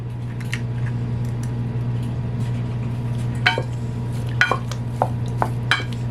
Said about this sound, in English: Add in the eggs one at a time, mix it around